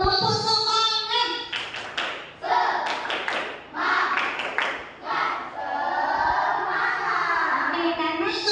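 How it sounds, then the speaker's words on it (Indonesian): A classroom group doing a rhythmic spirit clap, with patterned claps mixed with children's chanting voices, loud and close, ending in sustained group vocalizing. "silakan dulu tepuk semangat"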